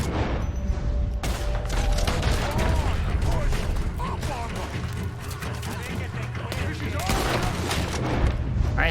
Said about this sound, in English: I have a bolt action rifle.